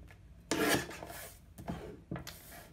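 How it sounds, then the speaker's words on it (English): Paper being trimmed for a scrapbook layout, three separate scraping cuts of moderate loudness, close by and with no voices. "I'm gonna go ahead and just trim this a little tighter"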